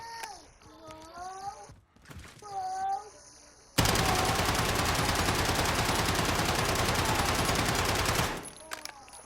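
Automatic gunfire in the shooter game Modern Warfare: one sustained, loud burst of rapid shots lasting about four and a half seconds, preceded and followed by quieter game sounds and a faint voice.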